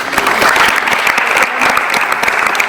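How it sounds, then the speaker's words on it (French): A local audience applauds a former supporters' club president at a community association event in Guer, with steady, dense clapping close by that runs the full length before stopping abruptly. "on peut l'applaudir"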